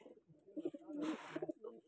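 Pigeons at a fighter-pigeon competition coo softly and steadily, faint and low, mixed with a brief rustle and people talking nearby.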